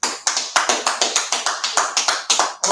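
A few people clap together in a quick steady rhythm, about a dozen sharp close hand claps in under three seconds with no talk over them.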